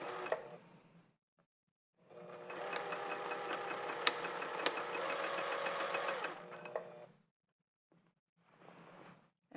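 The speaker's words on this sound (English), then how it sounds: "I don't want to sew in any wrinkles, and I've done it enough to know I have to go slow on this part." A sewing machine runs slowly and steadily for about five seconds while stitching fabric for a Phoebe top, its close, even needle clatter set between short quiet gaps and brief handling noises.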